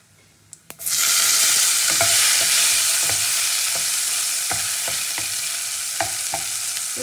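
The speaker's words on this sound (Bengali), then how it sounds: "তো ফোড়নটা ভাজা গেলে প্রথমে টমেটো কুচিটা দেবো।" Chopped tomato is dropped into hot oil that already holds a chilli and cumin tempering for singhi fish curry. A loud, sudden burst of sizzling follows and holds steady, with occasional spoon taps against the pan.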